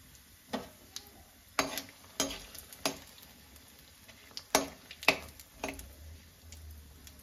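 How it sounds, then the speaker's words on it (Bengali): Two or three bay leaves and a couple of dried chillies hit hot oil with cumin in a pan, giving a soft steady sizzle punctuated by sharp pops and crackles at irregular intervals, close and fairly quiet. "দুইটা তিনটা তেজপাতা দিলাম, 2টা শুকনো মরিচ দিলাম,"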